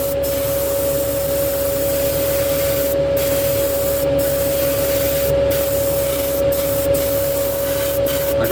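A spray gun lays a tack coat of paint on a 1965 Chevy Impala with a steady, loud, close hiss that runs unbroken throughout and is cut by a few brief gaps, with no talking.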